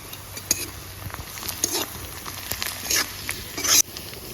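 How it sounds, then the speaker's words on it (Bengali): Onion, green chilli and ginger frying and being stirred in a pan for fish vorta, a steady oily sizzle with scraping stir strokes and a louder crackle near the end, no voices. "সব কিছু একসঙ্গে ভালো করে ভাজে নিচ্ছি"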